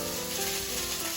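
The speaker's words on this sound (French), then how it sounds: "Je mets un beau morceau de beurre. Voilà. Hop. Et je vais venir y jeter mes poireaux." Leeks fry in butter in a pan, giving a short, steady, close sizzle with a brief soft clatter at the end.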